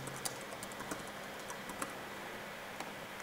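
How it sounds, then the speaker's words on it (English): Quiet, irregular taps on a computer keyboard, a short run of light clicks at close range during a screen recording, with no voices. "say I want to type something"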